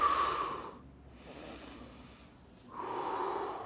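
Controlled breathing during a plank hold in a core workout: a long, forceful breath out through the nose and mouth, a softer pause, then another strong exhalation, close and breathy with no talking.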